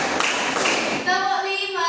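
A classroom of students claps together in a short, dense burst of hand claps, then a teacher's voice speaks over the room.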